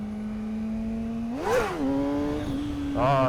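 A motorcycle engine runs close by at a steady hum, then revs sharply upward and falls back before climbing again, with the pitch rising and dropping in second gear.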